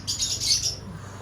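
Fischer's lovebirds kept indoors giving a quick burst of shrill, high chirps and squawks, close and moderately loud, lasting about a second before fading.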